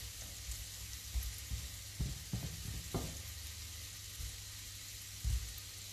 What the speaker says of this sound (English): Just let them fry